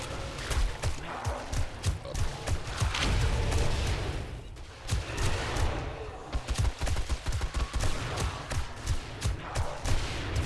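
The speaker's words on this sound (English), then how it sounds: "Man, this rifle is powerful." Rapid rifle gunfire during a horde-night battle in the Rebirth mod of 7 Days to Die, a dense run of loud, close shots in quick bursts with a brief lull in the middle, over continuous game noise.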